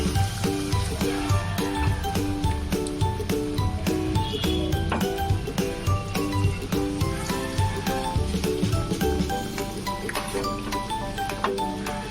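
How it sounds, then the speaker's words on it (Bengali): Marinated chicken pieces for green chicken slipping one by one into hot oil, giving a continuous loud sizzle with sharp spitting pops, accompanied by a strong rhythmic background melody. "আমি এখন একটা একটা করে চিকেন তুলে নিয়ে দিয়ে দেব তেলের মধ্যে।"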